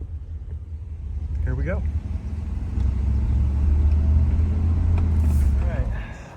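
An old car's engine runs and drives down a street with a steady low rumble that builds and holds, close by, while a voice speaks briefly over it.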